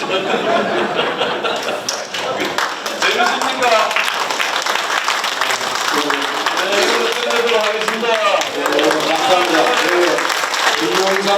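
Seminar audience clapping in a hall at a commemorative event for President Kim Young-sam, sustained applause with chuckles and voices mixed in.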